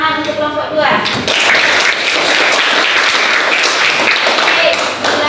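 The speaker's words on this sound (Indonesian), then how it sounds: "Untuk itu kita beri tepuk tangan untuk kelompok 2." A classroom of students claps for a presenting group. A voice is heard briefly at the start, then a burst of scattered, energetic clapping fills the rest close by.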